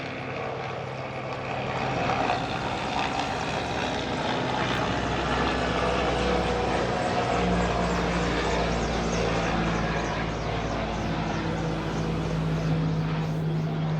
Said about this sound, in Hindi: यहाँ पे हेलीकॉप्टर आता रहता है ना। तो फिर से हेलीकॉप्टर आया था।